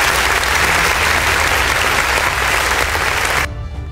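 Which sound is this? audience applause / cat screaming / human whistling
audience applause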